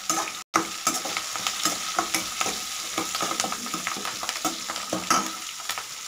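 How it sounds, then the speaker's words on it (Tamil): Spices with turmeric powder and two sprigs of curry leaves fry in a pan while being stirred, giving a steady soft sizzle punctuated by repeated scraping spoon strokes, with no talking. "இது எல்லாத்தையும் நல்லா கலந்து விட்டுக்கோங்க."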